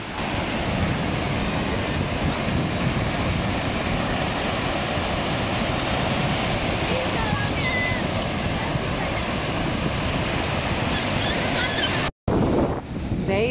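Sea waves at Sunny Beach, Bulgaria wash ashore in a loud, continuous rushing surf mixed with heavy wind buffeting on the microphone, cut off briefly near the end.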